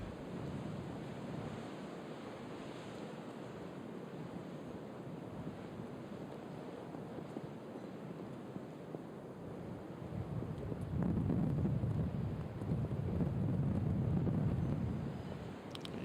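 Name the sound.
wind blowing across a golf course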